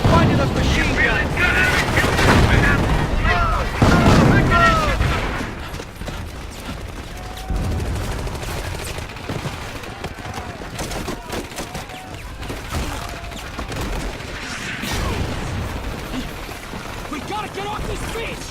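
MG-42 machine guns fire on a Normandy beach assault in a video game, a continuous din of gunfire and explosions with voices shouting over the battle throughout.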